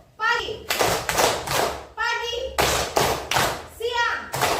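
Children clap in a small group, three sharp bursts of hand claps in quick succession, each set opened by a teacher's called word, repeated a few times in a classroom lesson game.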